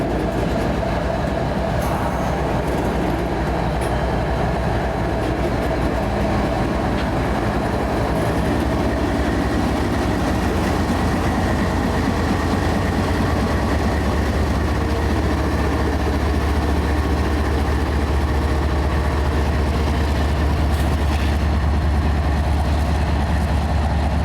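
A long freight train with auto racks and mid-train distributed power units rolls past near Tampa, loud and continuous, with steady wheel clatter and a deep engine rumble building toward the end.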